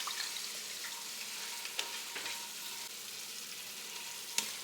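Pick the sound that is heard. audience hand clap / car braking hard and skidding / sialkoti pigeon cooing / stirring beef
stirring beef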